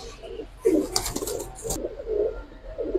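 A Kaldam pigeon coos nearby in soft, repeated low rolling coos, with a brief flutter or rustle near the start, no talking.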